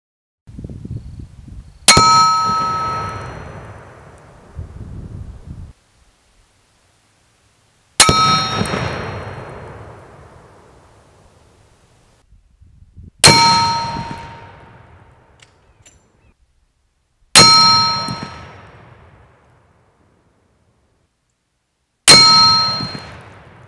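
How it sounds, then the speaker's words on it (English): Anti-tank rifle rounds striking 3/4-inch steel targets, five loud metallic clangs spaced several seconds apart, each ringing out and decaying into silence. "of an impact on the 3/4-inch steel targets we had"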